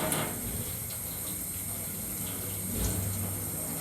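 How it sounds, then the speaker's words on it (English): Running tap water pours in a soft, steady hiss while hands are rinsed underneath, fairly quiet, with a slight surge near the end. "Rinsing mechanically washes away the dirt and microorganisms."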